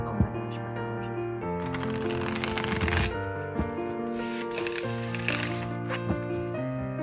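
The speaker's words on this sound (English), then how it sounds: "And for riffle shuffling, let me pull out." A tarot deck being riffle shuffled, giving a crisp, fluttering card riffle of a second or two that plays over steady background music.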